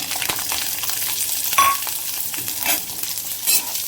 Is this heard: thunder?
no